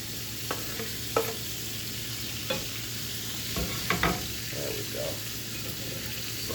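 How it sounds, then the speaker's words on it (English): Vegetables for an omelette cook on a skillet over a low fire, giving a steady sizzle with a few light clatters and scrapes of stirring, close and moderately loud. "I'm gonna put the veggies on this skillet up here"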